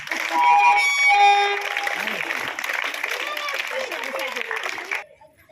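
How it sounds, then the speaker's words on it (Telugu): Loud applause from a school audience at a Sankranti event, steady and dense for about five seconds, with a few tonal tones riding over it near the start, then stopping abruptly. "everybody needs a big applause"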